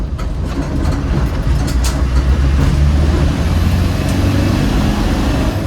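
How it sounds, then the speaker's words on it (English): A 1994 Land Rover Defender 110 with a 300Tdi diesel engine accelerates in third gear on a dirt road, a loud continuous engine drone and rumbling road noise from inside the cab. "Alright, so we'll drop down into third gear."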